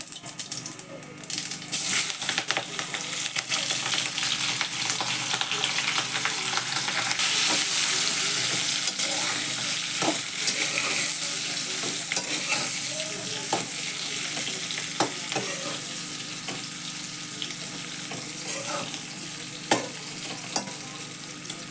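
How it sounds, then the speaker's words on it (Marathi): Green chillies frying in hot oil with cumin seeds in a home kitchen, a continuous bright sizzle and hiss with scattered crackles and pops, close and steady throughout with no talk. "तेल तापलं बघा जिरं घालते मी मोहरीने घालायची जिरं घालायचं नुसतं मिरच्या टाकते"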